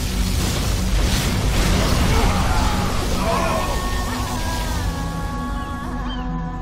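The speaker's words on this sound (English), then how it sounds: "Releasing particle cannon." A particle cannon blast in the game Command & Conquer: Generals Zero Hour: a heavy, sustained roaring blast with rumbling low end fills the whole clip, with faint whining tones emerging partway through.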